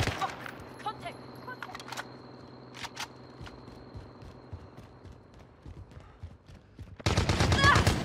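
Enemy gunfire in a military shooter video game, with sharp bursts and single shots cracking over a busy background, then a loud dense volley near the end.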